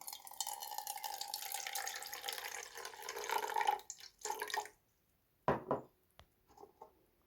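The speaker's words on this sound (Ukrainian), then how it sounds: "Заливаємо сюди в баночку." Pouring 9% vinegar into a glass jar for marinating cucumbers gives a close, continuous liquid trickle that breaks off, followed by a few short clinks and drips.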